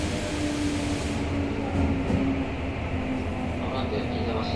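Tokyo Metro 05 series train with Mitsubishi IGBT traction equipment, a local service heading toward Nakano, rolling along with a steady low rumble, faint motor whine and wheel noise heard from inside the car.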